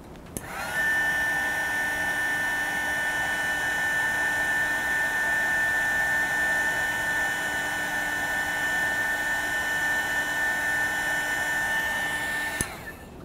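A heat tool blows hot air to dry wet paint on a pink rosebud painting, giving a steady, close whirring whine that switches on, holds evenly for about twelve seconds, then cuts off.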